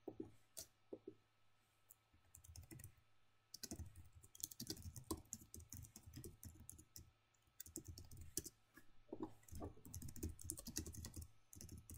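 Fast irregular typing on a computer keyboard, close and crisp, with bursts of clicking keystrokes separated by short pauses.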